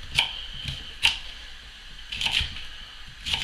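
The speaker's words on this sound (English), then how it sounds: "Just chop them up." Knife chopping vegetables on a cutting board for a sea bream recipe, a handful of sharp, close taps in irregular pairs and singles with short pauses between, no voices.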